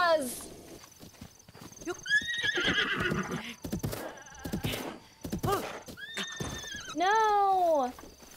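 Horses in Zelda Breath of the Wild whinny and neigh repeatedly, with clip-clop hooves underneath, while a player talks excitedly over the game sounds.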